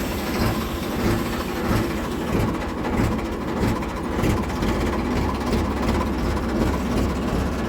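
A tractor or similar farm vehicle engine runs steadily with a low rumbling drone, put into second gear and moving off slowly with the brake released, continuous and fairly loud throughout.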